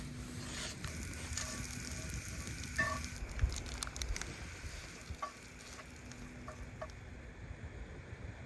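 Sweet potato and chorizo hash sizzles and crackles steadily in a hot pan at a camp, with a few soft scraping stirs partway through.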